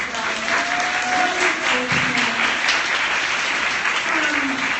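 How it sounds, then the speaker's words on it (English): Sustained audience applause fills a room at a training panel event, steady dense clapping from many hands throughout with a few faint voices mixed in. "Can we just give one more round of applause here?"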